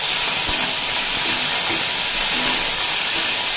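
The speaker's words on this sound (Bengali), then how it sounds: "সবার প্রথমে ভেজে নেব চিংড়ি মাছগুলো" Salted, turmeric-rubbed shrimp frying in hot oil make a loud, dense, continuous hiss that stays even throughout with no voices.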